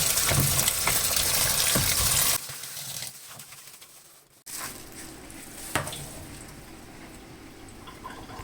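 Mustard greens being rinsed in water for fermenting, with splashing and sloshing as the leaves are swished. A quieter stretch follows, then softer handling sounds.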